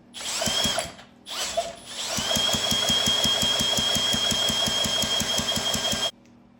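A 1968 McCulloch Scott 7.5 hp outboard engine with the head off is cranked over by a drill, giving a fast, even rhythmic chugging under a steady whine, after a couple of brief false starts, then stopping abruptly.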